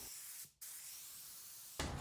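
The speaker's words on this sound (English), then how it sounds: "I'm spraying at 65 psi" A paint sprayer running at 65 psi lays down chalk-style paint on a thrifted salvage piece in loud, broad hissing bursts, with a short pause before the spray resumes.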